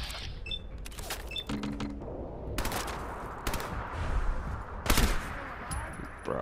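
Scattered gunshots from Fallout 4 combat, a few sharp reports standing out over a continuous noisy game background, with one louder crack near the end.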